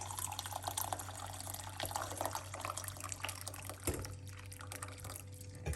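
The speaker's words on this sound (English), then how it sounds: "Hot water in the pot. 1 cup of hot water" Hot water is poured into a cooking pot, a continuous splashing, trickling stream that runs steadily, then thins and drips toward the end, heard alone at close range.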